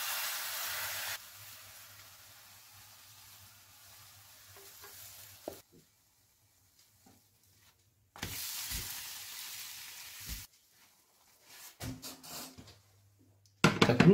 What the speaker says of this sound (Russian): Теперь сковороду я смазываю растительным маслом и стараюсь выпекать блины максимально тонко.